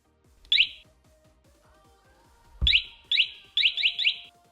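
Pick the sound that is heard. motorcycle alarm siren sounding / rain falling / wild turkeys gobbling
motorcycle alarm siren sounding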